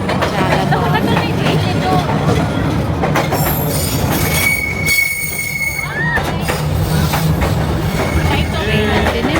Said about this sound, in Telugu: సెకండ్ ట్రైన్ కూడా వచ్చింది ఒక 10 minutes గ్యాప్లోనే